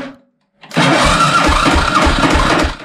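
A Suzuki DR 650 motorcycle in poor condition is cranked after stalling; a brief rumble dies away, then after a short silence the starter engages in a loud, rhythmic churning that keeps going.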